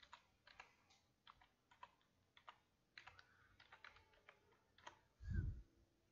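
Someone types on a computer keyboard with quiet, irregular key taps in short bursts, followed by one louder thump near the end, all in a quiet room with no talk.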